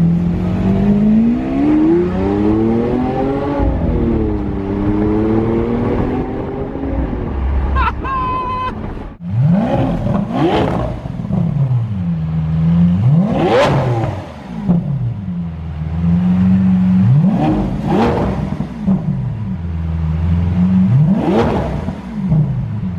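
A Lamborghini Aventador engine revs and accelerates up close, rising and falling through several loud pulls after a short idle, with its pitch sweeping up and down repeatedly.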